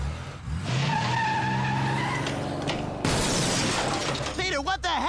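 A cartoon car skids with screeching tires and then smashes in a loud crash of breaking glass and crumpling metal, all close and harsh, with brief voice sounds mixed in.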